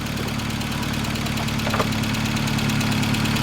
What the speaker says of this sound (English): Sounds like the lifters are a little bit loud,